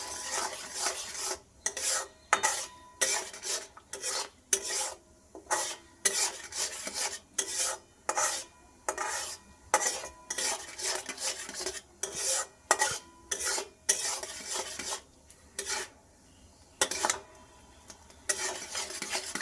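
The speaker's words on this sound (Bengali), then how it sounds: "ভালো করে নাড়াচাড়া দেবো" Tamarind chutney stirred in a pan, a spoon scraping and rasping against the metal in repeated rhythmic strokes with short gaps, close and fairly quiet, no talk.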